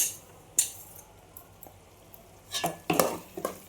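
Grated fresh coconut stirred in a pan while cooking a moong dal dish, light scraping and clinks of a spoon against the pan with a brief knock early on and a busier cluster of stirring scrapes near the end.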